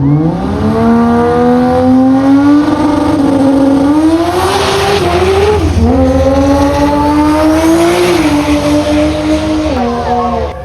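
A race car at the Kenda 660 Karnage in the Kanefields event accelerates hard, its loud engine note climbing and wavering through gear changes across the whole stretch, with an announcer talking over it.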